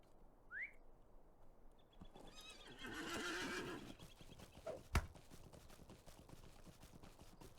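Horse neighing in the Lord of the Rings Online video game, a rising whinny early on, then a swell of hoof clatter and movement mid-clip, and a sharp crack near the end over steady game ambience.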